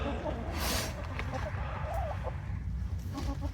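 Chickens cluck in short bursts near a coop on a small farm, set against a constant low rumble and hiss of background noise.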